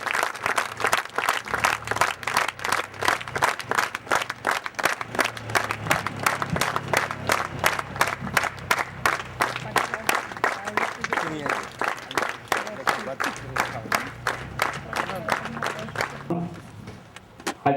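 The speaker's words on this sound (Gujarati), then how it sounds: "આપણે એમને તાળીઓથી વધાવી દઈએ" A crowd at the annual public meeting of Shree Meldi Maa TB hospital in Kheda claps in a steady, rhythmic beat for an arriving guest. Voices chant along, and the clapping fades away at the end.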